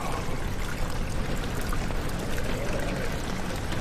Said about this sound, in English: You hear that water moving all around me?